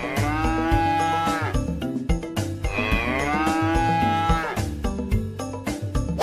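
A toy cow gives repeated electronic moos, with long drawn-out calls rising and falling in pitch over a layer of clicky toy noise, loud and close, with no talking.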